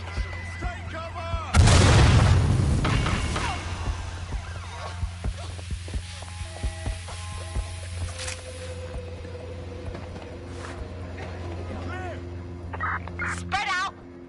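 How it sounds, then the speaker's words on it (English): A loud grenade blast bursts out early in Watch Dogs Legion combat, with a long rumbling decay, followed by scattered impacts and game voices shouting over a low steady hum. "Throwing grenades!"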